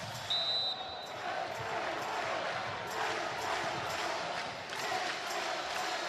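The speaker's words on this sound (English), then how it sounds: "Crowd trying to urge on the home team here." At a Hawaii home men's volleyball match against Pepperdine, a large indoor crowd roars continuously, with loud rhythmic cheering, a whistle early on and faint commentary underneath.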